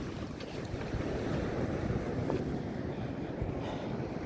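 Strong waves churn around a small fishing boat at sea as gusty wind roars across the microphone, a continuous loud rumbling wash with no voices.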